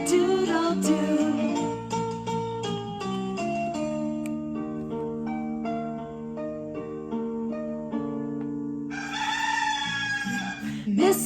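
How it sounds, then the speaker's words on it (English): A rooster crows once near the end, loud and brief, over a bright piano-style children's song about farm animals that plays throughout. "Stop that cock-a-doodle-doo."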